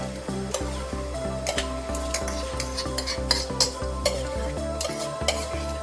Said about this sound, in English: As you see that the water has started boiling, let's add the rice,